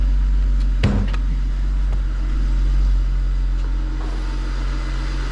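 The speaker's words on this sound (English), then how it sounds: "we had to start up another car" A BMW M62 V8 car engine with slipping timing, low on coolant, rumbles steadily at idle after a brief clank, holding a low, even drone with no clear revving.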